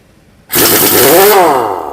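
Profitek 2100 Nm impact wrench loosening a truck wheel nut: a loud, continuous hammering burst kicks in abruptly after a short quiet moment and runs steadily to the end without talk.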